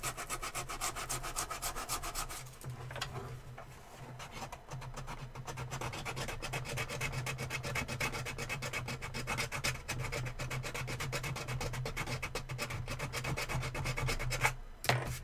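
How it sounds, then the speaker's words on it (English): Sandpaper rubs steadily over wood to smooth it, a continuous soft close-up scratching with a faint background hum and a couple of brief knocks. "with the sanding to get it smooth again"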